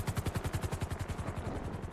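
A helicopter in the video game GTA 5 gives off a steady, rapid rotor chop with evenly spaced thumping beats, heard fairly quietly and alone.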